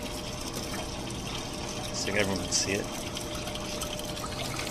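Dry ice bubbles vigorously in water, a continuous fizzing, gurgling churn like a boiling stew, heard close and steady under a man's brief speech.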